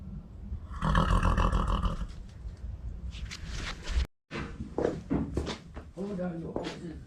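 Horses at breakfast time snort and give a rough, breathy whinny near the listener, with loud blowing bursts and a broken, huffing call, while a person talks nearby.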